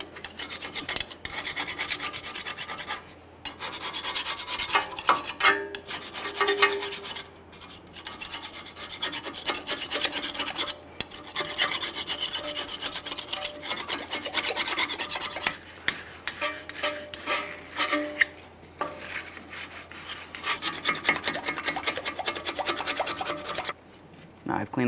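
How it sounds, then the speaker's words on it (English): A small hand scraper cleans the wheel hub mounting area of a 2015-2020 Ford F-150, rasping close and steadily in continuous scraping strokes with brief pauses. "For the outside, I'm just using a small scraper."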